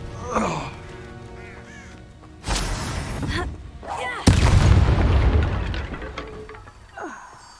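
A Confringo blasting spell in the Hogwarts Legacy video game gives two loud bursts, the second larger and roaring on as a sustained blast, with short vocal cries from game characters before them.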